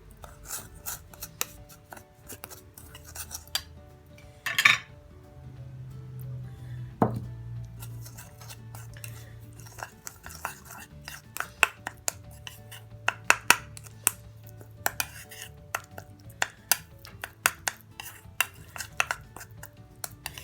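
A spoon mixes face scrub ingredients, including vitamin E oil, into a paste in a bowl, making close repeated rasping and scraping strokes with occasional sharper clinks.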